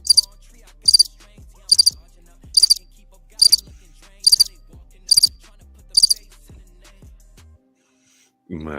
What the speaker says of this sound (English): We got those crickets.